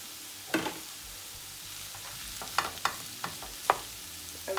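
Rice being stirred into pork egg fried rice in a hot pan, a low sizzle broken by several sharp scrapes and knocks of the utensil against the pan, close, with no talking.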